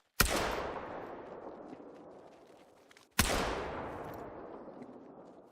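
Two loud shotgun blasts ring out about three seconds apart while hunting in the Call of the Wild hunting video game, each a sharp crack followed by a long fading echo, with no talking.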